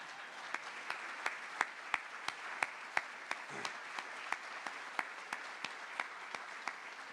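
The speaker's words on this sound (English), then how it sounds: "I'd like to give her another round of applause" Sparse, slow clapping from a small ceremony crowd at Vanderbilt's South End Zone, a steady run of individual sharp claps spaced about a third of a second apart, fairly quiet and continuing alone for several seconds.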